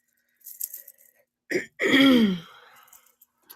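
Two sharp throat-clearing bursts close to the mic, the second longer and raspier, in an otherwise quiet room.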